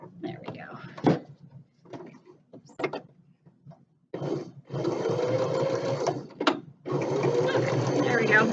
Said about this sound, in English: Just gonna keep sewing on 1/4 inch seam allowance